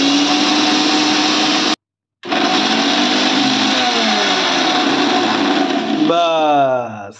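Loud, steady blender grinding coriander leaves and amla into chutney, briefly cut off and restarted, then winding down at the end.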